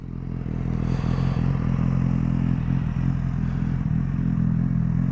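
A BMW S1000R motorcycle idles in neutral, a steady, loud, close engine rumble with light mechanical clatter running throughout.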